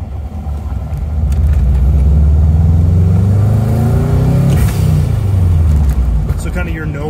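A turbocharged car engine revs and holds under boost, then a cheap eBay blow-off valve with its whistle removed vents in a short, sharp burst over the loud engine rumble.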